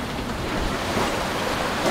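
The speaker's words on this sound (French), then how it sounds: "Là, j'espère vraiment que on se rend compte de la hauteur des vagues" Heavy sea waves in a storm surge and crash continuously around a boat, with loud, dense roaring wash and wind buffeting close to the microphone, no voices.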